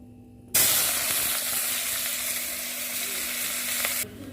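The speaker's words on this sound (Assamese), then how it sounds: "এই কেৰাহীত তেল দিলোঁ গৰম হৈছে এতিয়া মই ইয়াতে নহৰু আদা আৰু পিঁয়াজ জলকীয়া দিম" Garlic, ginger, onion and green chilli drop into hot oil in a kadai and burst into a loud, steady sizzle that starts abruptly and holds for several seconds before cutting off. No one speaks.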